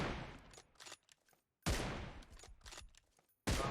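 Bursts of automatic gunfire in PUBG Mobile played on an emulator, three loud rapid volleys separated by short gaps, close and dense.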